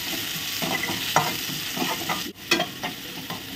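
Onions sauté in a pan for a plantain stir-fry, a steady close sizzle with occasional stirring scrapes and clicks of the utensil against the pan, no talking.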